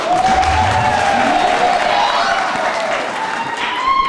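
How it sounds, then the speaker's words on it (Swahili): A crowd claps and cheers loudly and continuously, with a voice carrying over the applause. "nasema tumpigie makofi kwa kuwa kama yeye"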